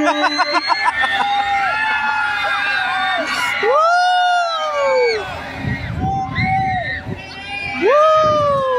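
Crowd at a Miss Gay pageant in the Philippines shouting and cheering loudly in bursts, with long whooping screams rising and falling over excited chatter and a host's voice.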